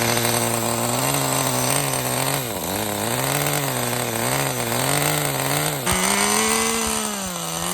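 An HPI RS4 RTR 3 nitro RC car engine, its cooling head leaking fuel, running loud and close with a buzzing, high-revving whine that repeatedly dips and rises as the throttle changes.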